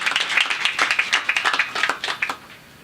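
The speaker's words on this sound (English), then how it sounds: "So I would like to just a small round of applause for David and the team." A small audience at a Grundfos product launch event in Kenya claps briefly, a scattered round of individual hand claps from a modest crowd that fades out after about two seconds.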